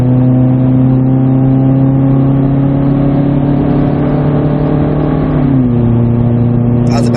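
Inside the cabin of a 2017 naturally aspirated Subaru Forester with a muffler delete, the engine drones loudly and steadily under load, its pitch holding high before dropping as the revs fall, with a brief click near the end.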